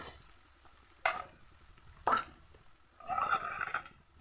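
Onions frying in a pan for an Assamese chicken pulao, with a steady soft sizzle broken by three distinct scraping stirs of a spoon, close and alone.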